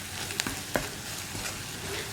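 Spice powders and salt cook in a pan for an egg and okra thoran while a spoon stirs them: a soft, low sizzle with a couple of sharp utensil clicks against the pan, heard up close without any voices.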